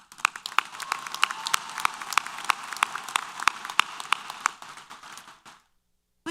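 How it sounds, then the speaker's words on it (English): Applause at a Texas A&M University-Corpus Christi fall commencement ceremony, a crowd's clapping with sharp individual claps standing out. It fades and stops about two-thirds of the way through, followed by silence. "Let's give them a round of applause."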